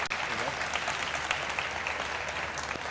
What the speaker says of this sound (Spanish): Un aplauso para Guillermo, muchas gracias.